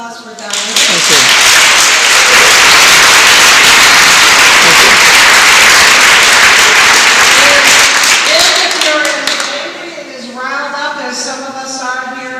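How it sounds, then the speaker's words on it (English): Loud, sustained applause from an audience at an evening speech event hosted by an education advocacy group, dense clapping filling the room for several seconds before tapering off as a voice begins speaking. "Another round of applause for Diane."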